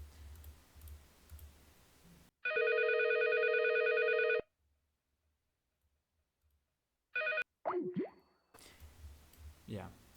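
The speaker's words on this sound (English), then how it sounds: "Let's try to do a call from one soft phone to another one." A softphone rings during a MikoPBX test call, a loud two-second electronic ring followed by silence, a short second ring burst, then clicks and background room noise with a voice at the end.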